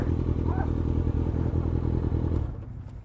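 A 2013 Ducati Hyperstrada motorcycle engine, a loud, close, pulsing rumble with rapid regular firing beats that drops away toward the end.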